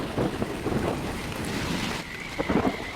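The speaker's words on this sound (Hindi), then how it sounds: "बादलों की गर्जना और बारिश की छींटों की आवाज में वे कमरे के एक कोने में बिस्तर पर सिकुड़कर बैठी हैं।" A thunderstorm brings heavy rain in a steady wash of noise, with low rumbles of thunder rolling through. Gusts rise and fall under a constant hiss, and no one speaks.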